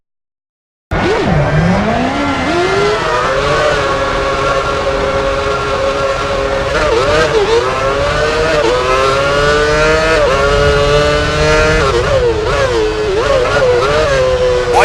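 Formula One cars in F1 Championship Edition on PS3 scream along at a Grand Prix, a loud high engine whine climbing and dropping through gear changes for about fourteen seconds after a silent start.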